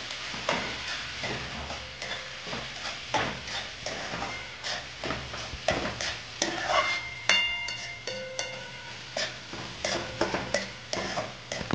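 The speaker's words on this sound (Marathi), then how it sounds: "हळद, गरम मसाला आणि धने मसाला चांगलं मिक्स करून घेऊया आता आपण" Turmeric, garam masala and coriander powder stirred into onions in a pan for a homemade baby prawn masala, with repeated rhythmic scraping strokes and a soft sizzle underneath, close and fairly quiet.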